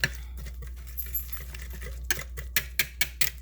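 A utensil mixes chopped cilantro and onion in a bowl, making light clicks and scrapes that come sparse at first, then turn into several sharper, rhythmic clinks toward the end over a low steady hum.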